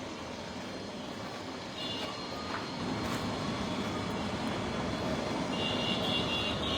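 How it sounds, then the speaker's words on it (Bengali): A helicopter landing at the Mymensingh football stadium, a broad continuous engine and rotor roar from a distance that gradually swells louder, with faint crowd noise and no clear speech. "এই যে এখন হেলিকপ্টার নামতেছে"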